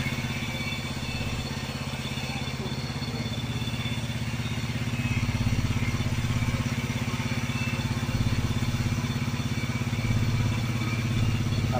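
A motorcycle engine runs steadily at idle, loud and close, with a firm low throb that rises a little midway as the idle is turned up; a mechanical clatter sits underneath and no one speaks.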